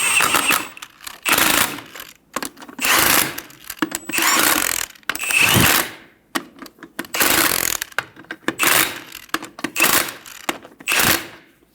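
Ratchet snugging down lug nuts on a 2000-2007 Ford Focus wheel, loud close bursts of rapid clicking repeated several times with short pauses, no talk.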